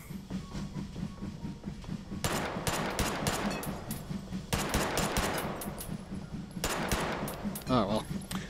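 Gunfire from the VR shooter Hot Dogs, Horseshoes & Hand Grenades during a Meatmas holiday event, set on a train: rapid bursts of automatic shots in two long volleys, loud and close, over a steady low rumble.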